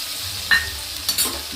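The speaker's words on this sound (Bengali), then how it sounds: "ভালো করে এবার এটা কষিয়ে নেব" Spice paste for vegetable khichuri sizzles in a pan while a spoon stirs it, with a couple of short scraping strokes over a steady frying hiss, close and alone.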